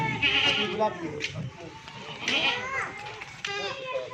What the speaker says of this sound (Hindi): ये देखिए चड्डा बकरी है